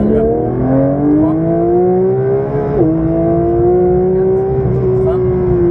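A car accelerates hard on the Dreux racing circuit, its close in-cabin engine note climbing steadily through two gear changes, while a voice talks over the engine.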